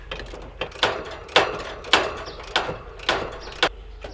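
Wrench ratcheting to back-seat the suction-side king valve on a Trane XR15 central air conditioning unit: a series of eight or so sharp metallic clicks in an uneven rhythm, close and clear with no talking.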